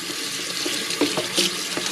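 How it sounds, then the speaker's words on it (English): Kitchen tap running hot water onto a cutting board for cleaning, a steady close splashing stream with a few brief louder spatters, heard alone without talk. "clean up the surface of our cutting board with some soapy hot water."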